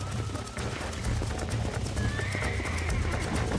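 In Red Dead Redemption, hooves clip-clop in a steady rhythm as a horse whinnies, with faint voices in the background.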